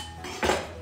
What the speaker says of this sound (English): I'm going to put it in the mortar and pestle.